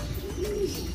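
Racing pigeons back at the loft coo with a soft, rolling call near the microphone, a single drawn-out coo rising and falling over steady low background noise.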